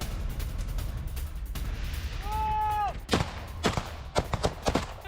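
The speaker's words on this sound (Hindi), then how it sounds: "रूसी सैनिकों पर ताबड़तोड़ फायरिंग की गई है, गोलियां बरसाते दिखे यूक्रेनी सैनिक" Sharp, loud gunshots from Ukrainian soldiers firing on Russian troops in a war zone: a few spaced blasts, then a quick irregular burst of shots, with a rising whistle-like tone and background rumble beforehand.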